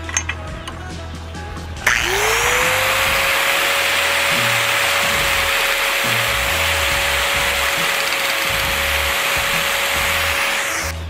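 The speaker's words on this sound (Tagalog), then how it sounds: "Masyadong malakas yung grinder." An angle grinder runs loud and steady on metal while reshaping the front fender of a Yamaha RXT135 motorcycle, spinning up sharply after a short quiet start and holding a high whine to the end.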